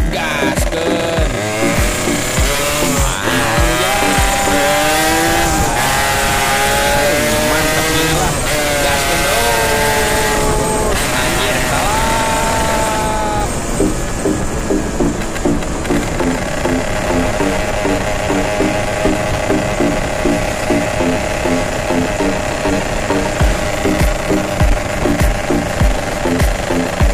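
Yamaha RX King two-stroke motorcycle engine at full throttle on the road toward Cikampek, loud and constant, its pitch sweeping up and down with each rev before settling into a fast, steady rattling pulse, with no voices.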